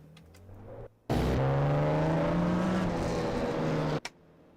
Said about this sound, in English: That is a nice sounding engine.